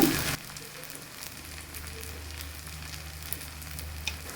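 Vermicelli fries in ghee and is mixed in a pan for a sweet kesari bath made without milk, a soft, even sizzle running close and fairly quiet after a brief louder knock at the start, with no voices.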